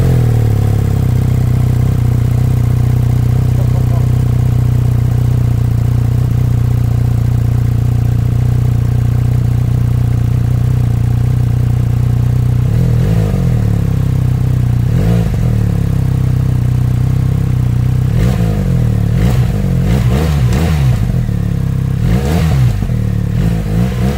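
A BMW R1300GS motorcycle with a Healtech ESE-BM1 exhaust valve eliminator fitted idles in a steady, loud drone, then gives several sharp throttle blips that rise and fall in quick succession. No one speaks.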